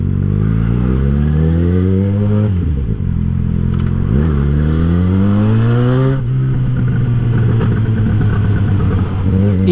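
A car engine revs up and falls back repeatedly, loud and close. As the throttle is released, light rapid crackles and pops sound from the exhaust under the falling engine note.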